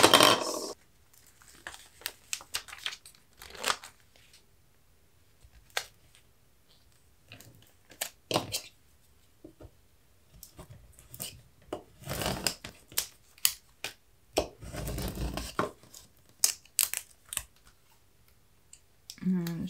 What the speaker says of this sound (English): So we're just gonna grab our transfer tape. I'm gonna measure how much I need and just cut it out.